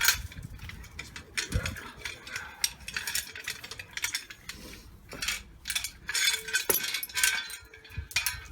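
A small anchor and its chain handled on a small boat or dinghy, giving irregular close metallic clinks, rattles and knocks scattered through the whole stretch with no talking.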